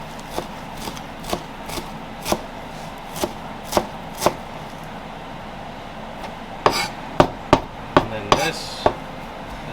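A knife chops parsley on a cutting board in a steady run of crisp, evenly spaced knocks. Toward the end the strokes turn quicker and slightly louder, with a short scrape among them.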